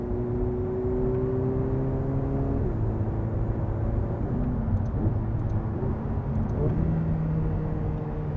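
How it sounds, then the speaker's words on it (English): Ferrari 488 Pista engine in race mode, a steady low drone with pitch steps as gears change during downshifts, moderately loud with faint rumble and whir behind it. "Still not kicking you in the back kind of downshifts, but they sure sound good."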